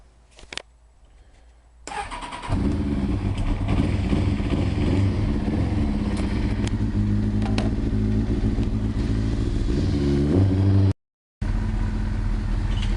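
A motorcycle engine with the choke on cranks and catches after a quiet start, then settles into a steady, loud, close idle with a brief dropout near the end.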